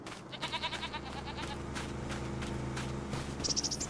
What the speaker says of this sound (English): Goats. Oh, look at that one.